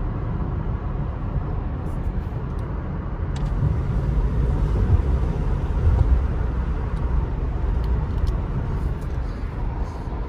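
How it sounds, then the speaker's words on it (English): A car drives over little patches of ice and snow on a mountain road near Big Bear, California, producing a steady, loud rumble of tires and engine from start to finish with no other sounds over it. "So that's why you have little patches of ice right here that we're driving over right now"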